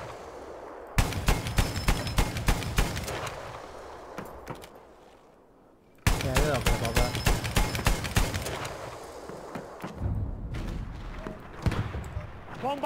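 Gunfire at bomber planes in Battlefield 1: two long bursts of rapid, evenly spaced anti-aircraft shots, loud and close, broken by a short pause and trailing into scattered fire and rumble.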